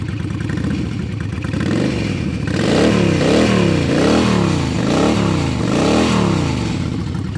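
V-twin motorcycle engine at differing bank angles and offset crankshaft, loud and close, an uneven lumpy idle that revs up into repeated rising and falling throttle blips.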